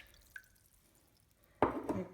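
Vinegar poured into a pan while making fruit chutney: one faint drip early on, then a short, louder burst of splashing liquid near the end.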